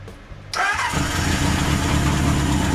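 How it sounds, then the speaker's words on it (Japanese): A Kawasaki Z1 motorcycle engine cranks briefly, then catches and settles into a loud, steady running rumble close by, with no talking over it. "じゃあエンジンかけてみます。"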